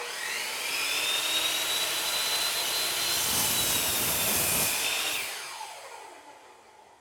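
Miter saw crosscutting a wooden board, a steady loud whirring whine with a rougher grinding band as the blade passes through the wood, then spinning down and fading after about five seconds.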